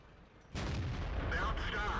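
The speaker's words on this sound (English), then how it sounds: "Unfortunately the shot goes high and doesn't do damage, so I bounce again." A tank cannon fires in a tank video game while driving an M46 Patton: one abrupt, loud blast with a heavy rumbling tail that fills the rest of the clip, with faint voice in the background.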